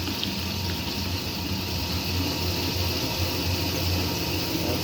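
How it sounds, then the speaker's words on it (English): A steady, droning pump hum with rushing water runs unbroken throughout, constant and moderately loud, from a 1964 Speed Queen A49 washing machine draining water. "You hear that pump getting all that water."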